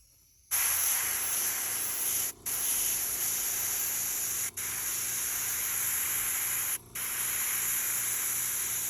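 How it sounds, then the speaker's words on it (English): Spray paint misting over the outside edges of a sneaker, heard as a close, steady hiss that starts abruptly and stops briefly three times between bursts. "I'm just going to now graze the outside edges with just a little bit of overspray."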